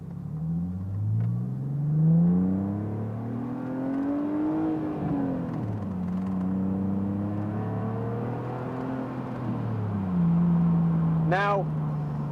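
A BMW Z4 sports car drives along, its engine rising and falling through gear changes in smooth harmonic sweeps, heard from inside at moderate loudness with a brief chirp near the end.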